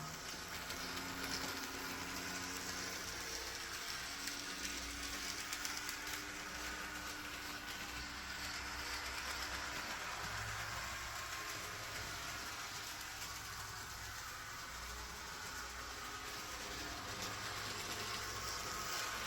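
A Rivarossi model locomotive runs along its track, giving a steady, faint mechanical whir and rumble with a continuous hum throughout and no talking.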